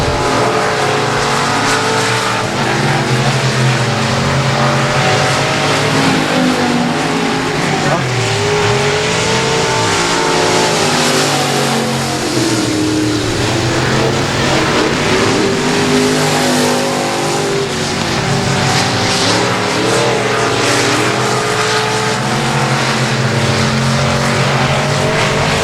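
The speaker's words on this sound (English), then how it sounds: "Jimbo Clayton picking up your Hobby Stock heat race win number 1 here." Hobby stock race cars roar around the dirt oval at Texarkana 67 Speedway, a dense, continuous engine drone with revving and some tire noise throughout, loud and steady over the full stretch.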